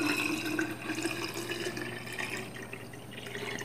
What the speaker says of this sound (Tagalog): kailangan nyong lalagyan siya ng tubig